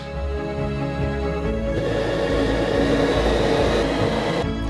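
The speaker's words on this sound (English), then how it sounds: "And you can turn on the burner." A gas burner lights under a lidded pot holding three liters of water for a giant strawberry Chupa Chups lollipop, and a steady rushing roar swells in and holds under a musical backing.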